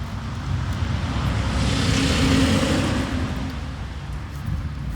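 A car passes on a road outdoors, a broad rushing swell that builds, peaks midway and slowly fades, fairly loud and with no speech.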